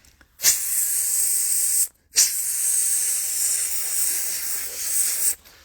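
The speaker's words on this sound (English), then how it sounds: "you're going to hear the ion wind coming around" A steady, bright electrical hiss of high-voltage electrostatic ion wind switches on, cuts out briefly, then returns and holds for several seconds before stopping abruptly.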